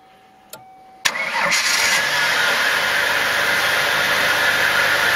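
A car engine cranks briefly after a couple of clicks, catches sharply with the power of an Antigravity Micro Start jump-starter battery, and settles into a steady, close idle.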